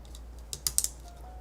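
A few quick clacks of keyboard keys, three or four sharp taps close together against a faint steady hum.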